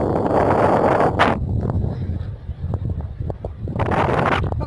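Cold wind gusts roar outdoors at around 10 to 20 degrees wind chill, steady and loud across the mic with brief surges, a quieter lull in the middle, then another hard blast at the end.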